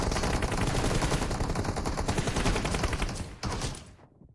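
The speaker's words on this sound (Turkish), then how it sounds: "Uzaktan sıkıyor bir tanesi ya." Dense, continuous gunfire in PUBG, rapid bursts layered into a steady rattling barrage that carries on before cutting off abruptly near the end.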